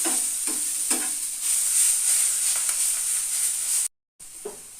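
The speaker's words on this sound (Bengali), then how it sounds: "সবজিটা আমার ভাজা হয়ে গেছে" Steady sizzling of vegetables frying in a pan, with a few soft stirring scrapes and a brief moment of silence near the end.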